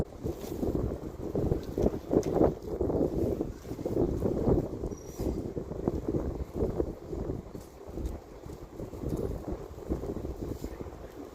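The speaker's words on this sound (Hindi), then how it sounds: "तेज़ हवाएं अच्छी तो बड़ी लग रही हैं" Strong wind gusting at a home where clothes hang out to dry, a continuous rough roar buffeting the microphone, with rattles and flapping knocks throughout.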